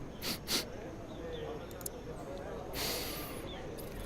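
A human voice imitates sniffing the air, with a couple of quick breathy sniffs near the start and a longer sniffing burst later, close to the microphone over faint background.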